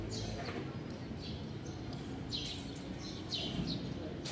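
A small wild bird held in a hand gives short high chirps in scattered clusters, faint over a steady outdoor background hum, with brief gaps between the calls.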